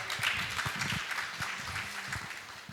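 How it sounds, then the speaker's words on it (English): Audience applause at an art museum awards event, a short burst of dense, fairly quiet clapping from a room of people with a faint voice underneath. "Please give her a big round of applause."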